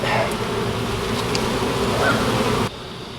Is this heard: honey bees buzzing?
yes